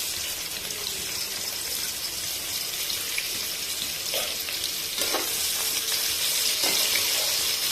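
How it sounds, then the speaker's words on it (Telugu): Onion pieces fry in hot oil for a chicken curry, giving a steady close sizzle throughout with a few soft stirring clinks and scrapes, no talking. "ఆనియన్ ముక్కలు ఎర్రగా వేయడం వరకు ఇలానే వేయించుకోవాలి."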